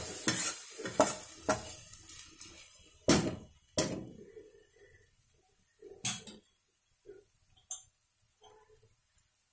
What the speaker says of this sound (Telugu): ఆనియన్ పేస్ట్, టమాటా ఇది బాగా ఆయిల్ తేరే వరకు వేగాలి